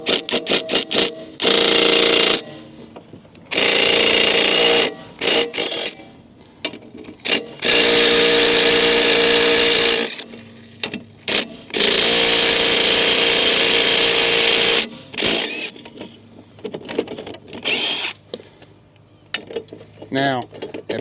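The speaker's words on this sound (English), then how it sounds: "we just ugga-dugga that bad boy right on off. And that is why we appreciate power tools." Loud bursts from a power tool, likely an impact driver, spinning off 14 mm bolts through a silver plate into the blade spindle of a Honda HRX217 lawn mower, several separate whirring runs with brief pauses between them.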